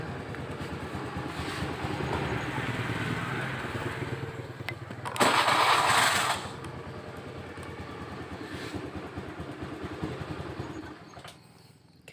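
A Honda Beat FI scooter showing a seven-blink fault code is cranked with its electric starter, a steady low engine hum broken by a loud roughly one-second burst of starter noise partway through, then fading out near the end.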